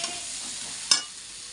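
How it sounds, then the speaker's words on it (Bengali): Raw jackfruit pieces frying in a pan with salt and turmeric give a soft, steady sizzle, with one brief sharper crackle or stir partway through. "এখানে এঁচড়টা আমি এখন ভাজছি এর মধ্যে নুন আর হলুদ দিয়ে দিয়েছি"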